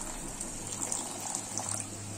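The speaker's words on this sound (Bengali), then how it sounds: "এবার আমি 1/2 কাপ মতন জল দিচ্ছি।" Half a cup of water pours into a cooking pan holding boiling mustard paste for a Bengali sorshe ilish, a steady close splashing flow running throughout without talk.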